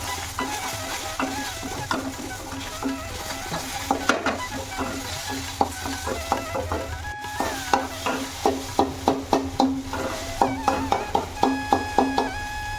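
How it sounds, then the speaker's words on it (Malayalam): Beaten egg stir-fried in a pan for a Thalassery snack, steady frying sizzle under repeated scraping and tapping strokes from a utensil that speed up into a fast rhythmic clatter near the end. "മുട്ട ഇതുപോലെ ചിക്കി പൊരിച്ചിട്ട് അത് വേറൊരു പാത്രത്തിലേക്ക് മാറ്റാം"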